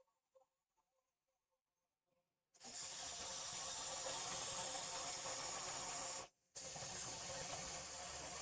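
Spray paint hisses steadily from an aerosol can onto the roof of a model witch's hut, a loud close spray broken by one brief pause before it resumes.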